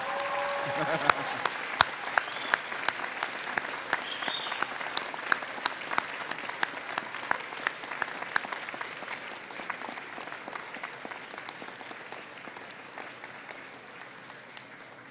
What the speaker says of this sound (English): give them a round of applause for the love and support that made this day possible